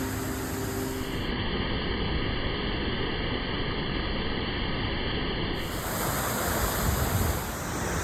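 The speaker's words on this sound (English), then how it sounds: "this waterfall here, or whatever you call it, this little sprinkler thing that they got going on" A small waterfall-style sprinkler water feature at a resort beach sends out steady, close, loud hissing splash that continues without a break.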